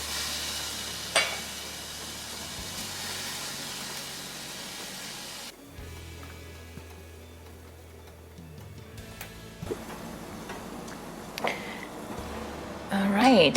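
Small cut-up pieces of pork chop frying in a pan, a steady soft sizzle running throughout with occasional ticks and clatter, while a voice talks over it.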